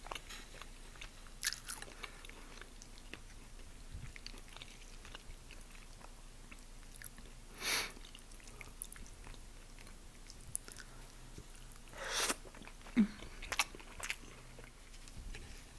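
Close, faint chewing and biting while eating breakfast by hand, omelet and Raffaello coconut candies, with a few soft crunchy bites over a quiet room; no talking.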